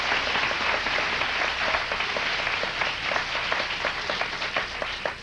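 A studio audience at a talk show applauds, a dense, steady wash of many hands clapping throughout, close and loud, with no talking over it.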